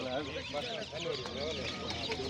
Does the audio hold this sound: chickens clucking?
yes